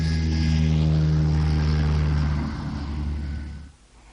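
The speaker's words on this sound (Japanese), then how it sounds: "あ、あれは飛行機です。" A propeller airplane drones steadily overhead with a strong low hum, its engine tone shifting and fading away near the end.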